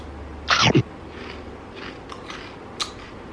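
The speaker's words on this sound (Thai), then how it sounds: "ขออนุญาตกรอบปาก อันนี้นี่ก็คือ เม็ดข้าวโพด" A crunchy, gluten-free corn and cheese snack gets bitten with one loud, close crisp crunch, followed by a few fainter chewing crackles in an otherwise quiet room.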